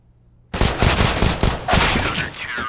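Rapid automatic gunfire in Counter-Strike: Global Offensive during a competitive esports match, loud bursts of shots starting abruptly and continuing densely to the end.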